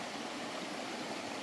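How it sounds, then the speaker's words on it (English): A creek flows below the trail at the Farmhouse Creek trailhead in Tasmania, giving a steady, dense rush of water that stays even and continuous throughout, with no voices. "That's the creek down there across the trail."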